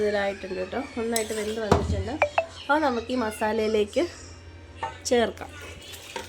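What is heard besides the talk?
stirring masala and cooked beef for beef curry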